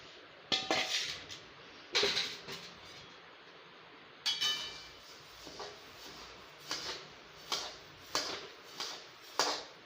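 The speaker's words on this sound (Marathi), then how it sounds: "ही आता धने भाजते." Coriander seeds are roasted in a hot kadhai pan, heard as a series of sharp metallic scrapes and clinks as a spatula stirs them, spaced irregularly and close, with quiet gaps between strokes.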